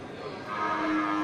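Black-haired Simmental cattle at a livestock market, with a steady din of animal sounds and a faint, drawn-out moo-like tone toward the end, close and continuous.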